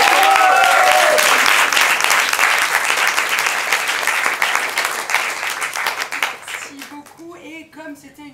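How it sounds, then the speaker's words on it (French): Loud, dense audience applause at a Paris improv theatre festival, many hands clapping together, then thinning out toward the end as a voice starts speaking over the fading claps. "vos applaudissements s'il vous plaît"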